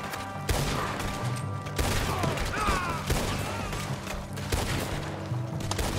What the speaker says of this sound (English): Let's pick them off before they get too close. I literally shot Dutch